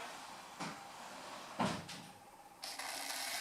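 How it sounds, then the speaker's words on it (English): A door shuts with a soft thud and latch click amid room noise, followed by more handling sounds and a rise in background hiss, with no talking. "I'm going out of the door."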